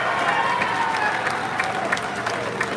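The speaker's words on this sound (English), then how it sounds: "How about a round of applause for this?" A crowd at the BART Legacy fleet retirement ceremony breaks into applause, loud, continuous clapping with a few scattered cheers in the mix, sustained evenly from start to end.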